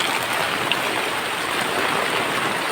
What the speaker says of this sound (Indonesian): Aduh, hujan guys.